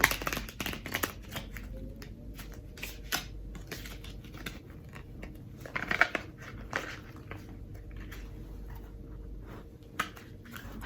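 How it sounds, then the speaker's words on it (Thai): Tarot cards being shuffled by hand at close range, producing repeated soft riffling and slapping bursts with short pauses between them, quiet and intimate, with no voices. "คีต้องสับไพ่ก่อน"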